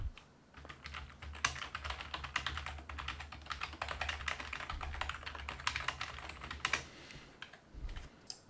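Computer keyboard keys pressed while formatting a table in a Hangul word-processor document, making a quick run of close, crisp clicks and taps in irregular bursts with brief pauses between them.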